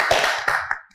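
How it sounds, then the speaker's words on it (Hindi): Brief clapping from a studio audience, a short burst of hand claps that quickly thins and fades within a second. "तालियां"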